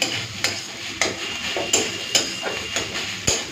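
A spoon stirring ghee into a banana stem and shrimp stir-fry in a pan, about eight sharp scraping knocks against the pan at a steady rhythm over a soft sizzle.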